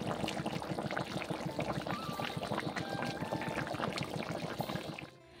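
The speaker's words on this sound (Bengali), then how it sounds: "এখনই জল দিয়ে দেবো।" Water pouring into a pan of sautéed cauliflower and potato with a little spice: a steady, close splashing and sizzling stream for several seconds, fading out at the end.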